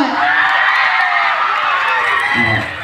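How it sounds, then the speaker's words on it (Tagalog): A large crowd at a people's night in San Pedro, Laguna, roars with sustained cheering and shouting, loud and close throughout, with voices rising together and easing slightly at the end. "lahat ng mga nandito sa kaliwa ko magpalakpakan na may kasamang hiyawan"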